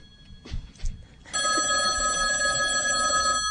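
A telephone bell rings loudly and steadily in a quiet room, its bright metallic ring continuing without pause after a few soft knocks and shuffles.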